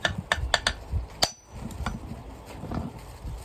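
Sharp metal hammer blows driving a bearing onto the shaft of a rice mill, several quick strikes in an uneven cluster followed by one louder ringing hit, then quieter workshop clatter.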